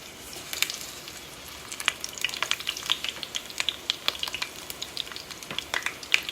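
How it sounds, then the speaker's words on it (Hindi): Eggplant slices fry in about half a cup of oil in a pan, with a close, steady crackling sizzle full of quick bright pops throughout. "अब हम अपने जो बैंगन के स्लाइसेस हैं उनको इस ऑयल में इस तरह से फ्राई कर लेंगे।"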